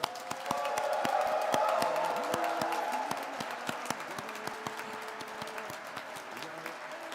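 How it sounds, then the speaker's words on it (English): Applause for a first-ever Indigenous Foundations graduating class at a spring convocation, sustained clapping from a crowd that swells early and then gradually thins, moderately distant, with a voice speaking over it. "Let's hear an extra large round of applause for our first ever graduating class from the Indigenous"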